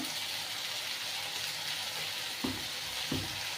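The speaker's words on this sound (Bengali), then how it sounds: "একটু জল দিয়ে নিয়ে মশলাটা আমি ভাজছি" Masala spices with a splash of water sizzle steadily in a pan for a Bengali dhokar dalna, a continuous bright frying hiss broken near the end by two soft stirring scrapes.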